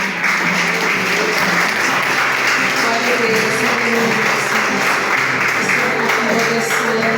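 A church congregation applauds during a sermon, a dense, steady wash of clapping filling the whole stretch with a voice briefly heard over it.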